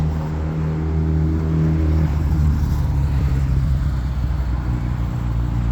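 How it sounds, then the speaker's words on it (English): Cars and other road traffic moving along a busy street all around, a steady low rumble of engines that swells as a vehicle accelerates past partway through, with no talking. "there are cars all around me, and I don't want to get run over"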